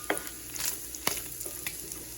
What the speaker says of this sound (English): You only want to cook your pancetta about 5 to 7 minutes. Just stir it every so often.